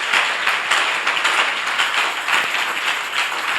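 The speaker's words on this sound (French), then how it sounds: "Kwa Bwana Yesu Kristo makofi." Church congregation applauding during a pastor's anniversary service, a loud, dense and continuous burst of many hands clapping with no talk over it.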